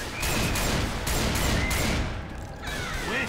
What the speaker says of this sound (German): So viele Schüsse wie möglich.